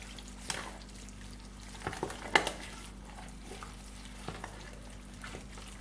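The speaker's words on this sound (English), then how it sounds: "Now I'm going to mix everything together." Jamaican fruit cake batter being stirred by hand in a bowl, with soft, irregular scraping and sloshing strokes and a few sharper clinks of utensil against the bowl, close and fairly quiet.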